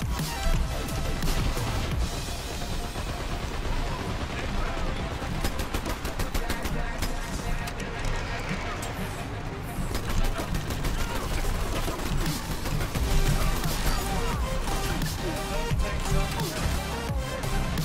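Automated turret gunfire in the shooter game Dirty Bomb, a steady stream of rapid shots and impacts running the whole time, dense and loud, with a voice talking over parts of it.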